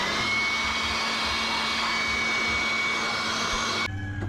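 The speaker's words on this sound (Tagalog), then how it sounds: "Yung blower na natin guys, gamit tong portable blower natin" A portable blower roars steadily at close range while drying a motorcycle's welded steel gas tank and engine after washing, a continuous loud whoosh that drops in level sharply near the end.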